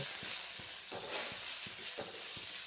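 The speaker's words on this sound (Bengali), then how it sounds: "আর দিচ্ছি একটু জিরে গুঁড়ো আর একটু ধনে গুঁড়ো এই মশলাটা এখন কষিয়ে নেব" Ground cumin and coriander fry in a pan for a pointed gourd dish: a soft, constant sizzle broken by a regular rhythm of spatula scrapes, fairly quiet and close, with no voices.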